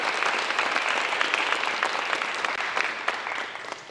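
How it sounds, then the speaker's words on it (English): An audience at a life skills graduation applauds the graduates' families, a dense, steady round of clapping that holds for several seconds and tapers slightly at the end. "Can we honor them and recognize them with a round of applause,"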